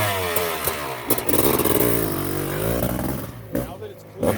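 A Honda CR500R two-stroke motocross bike, Kaplan America edition, runs loudly up close with a rough, throbbing idle and rising blips of revving, while voices talk over it.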